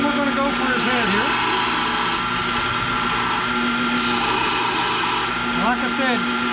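A hand tool carving into a wooden figure, close rasping and scraping strokes that grow louder with more pressure, with a voice talking over the cutting.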